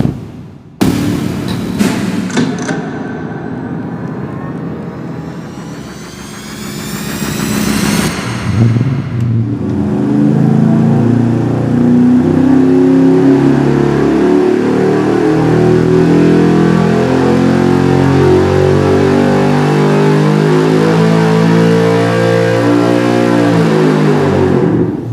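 A 408 cubic-inch low-compression LS engine with a blower-style intake manifold on a dyno: brief cranking bursts, then a loud sustained pull whose pitch climbs steadily as the revs rise.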